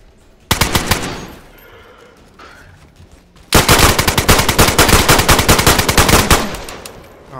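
Loud, close automatic gunfire in the survival video game DayZ: a short rapid burst, a pause, then a long sustained stream of rapid shots that tails off.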